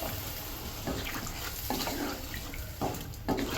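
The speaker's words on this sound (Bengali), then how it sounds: "এবার আমি পরিমাণ মতো জল এর মধ্যে" Water is poured into a cooking pot over fried spices for a hilsa and taro curry, a soft continuous splashing and gurgling with a few brief surges, fairly quiet and close.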